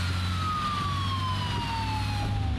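A police car siren in The Evil Within video game wails steadily and loudly, its pitch sliding down slowly over a constant low engine rumble, with no speech.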